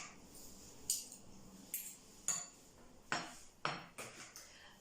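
Avocado and Greek yogurt being mashed together in a bowl for guacamole, a faint scraping texture broken by about half a dozen light clinks and taps of utensil on dish, with no talking.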